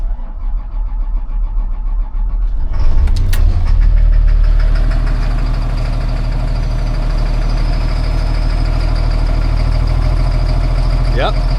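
A diesel RV engine cranks and catches, then settles into a loud, steady, rumbling idle that carries on close by.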